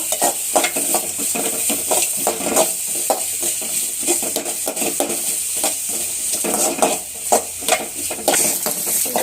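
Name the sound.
ingredients roasting and being stirred in a pan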